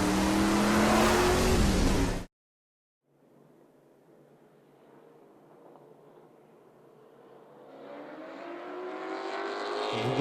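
Race cars in a Charger division race at Myrtle Beach Speedway: a loud, close engine roar cuts off abruptly, then after a brief silence distant engines return and swell steadily as cars approach, ending in a loud rush.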